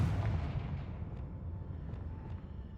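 A Confringo blasting spell explodes in Hogwarts Legacy with a single heavy boom that rolls off into a fading rumble, with faint small pops in the tail.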